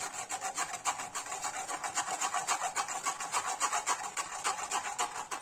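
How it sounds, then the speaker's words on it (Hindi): Ground tamarind pulp pressed and scraped through a kitchen sieve to remove fibres gives a close, rhythmic rasping scrape, stroke after stroke in a steady fast pattern, with no talking. "अब मैंने जो इमली के पेस्ट को ग्राइंड कर लिया, मैं इस पल्प को निकालूंगी इस छन्नी की हेल्प से।"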